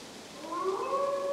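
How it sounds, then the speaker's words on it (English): A wolf in Assassin's Creed Valhalla gives a single rising, drawn-out howl with a clear tonal wail, moderately loud and heard alone over soft ambience. "That is not the sound of a dog, Ira. That is a wolf."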